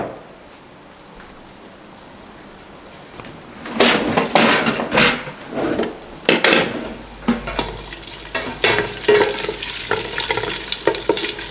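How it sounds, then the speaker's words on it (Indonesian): Chopped onion, garlic and ginger hit hot oil in a pan for a Chinese-style gourami fish soup: after a quiet start, loud sizzling bursts and scraping stirs come in uneven waves. "Kita akan tumis si bombay dan putih dan jahenya ya."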